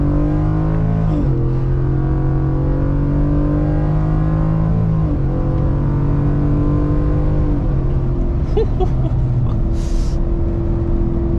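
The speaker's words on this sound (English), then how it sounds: "This exhaust, I did not expect this exhaust to pop so much" A Raptor pickup truck engine revs up and down repeatedly, loud and close, with a few sharp exhaust pops near the end.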